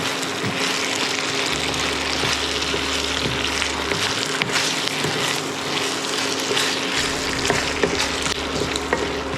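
A sweet and sour spicy sauce thickens around salt and pepper fried pork chops on the stove, giving a steady, close sizzle and bubbling with small pops throughout and no talking.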